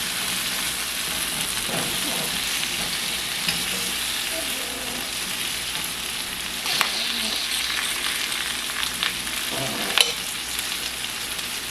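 Garlic sizzles and fries steadily in a pan, a continuous bright hiss with occasional louder pops and stirring scrapes, no voices over it.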